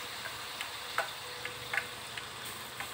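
Cooking oil crackling in a pan, sparse sharp pops and ticks scattered at an uneven rhythm over a faint steady hiss, close by with no voices.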